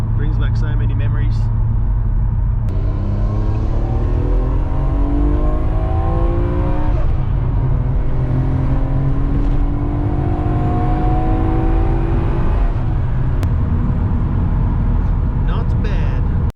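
Nissan Stagea 260 RS Autech with an RB26DETT engine revving loudly and close, the pitch rising and falling through several sweeps over a constant rumble, with people talking at moments.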